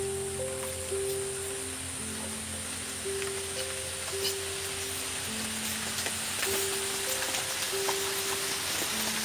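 Khichdi cooking in a pot on the stove gives a steady, close sizzling hiss, with soft background hum and faint clinks.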